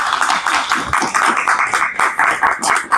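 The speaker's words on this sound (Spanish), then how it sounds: "Denle palmas al Señor" A church congregation claps for the Lord at a spiritual retreat, with steady rhythmic handclaps from many people filling the room up close and loud, and no talking over them.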